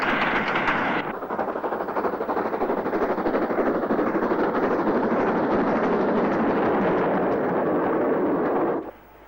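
A Manor class steam locomotive hauls a passenger train past, a loud, sustained rushing chuff and rumble that fills the scene, then cuts off abruptly at the end.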